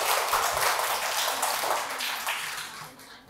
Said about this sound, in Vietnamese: Cô thưởng cho cả lớp một tràng pháo tay.